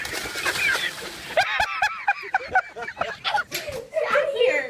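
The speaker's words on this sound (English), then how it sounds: "There's a rooster there at KFC." A rooster clucks in quick, close calls, mixed with excited voices and a child's chatter.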